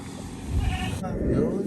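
Goat bleating on a homestead, a wavering animal cry heard amid background talk and household noise, moderately near.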